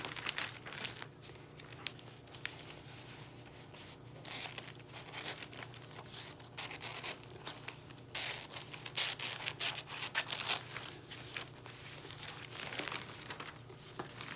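Wrapping paper crinkling and rustling steadily while being cut and folded around a present, close and fairly quiet, with sharper crackles throughout and no talking.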